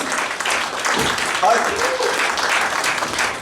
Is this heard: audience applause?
yes